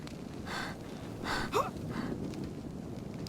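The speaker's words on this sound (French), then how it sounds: "On est essoufflé, on ralentit." A game character in Ark: Survival Evolved panting out of breath after coming out of the sea, several breathy gasps spaced about a second apart, close and moderately loud over a low ambient bed, with no talking.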